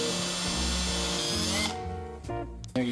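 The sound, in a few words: drill boring pilot hole in 1956 Century Resorter boat keel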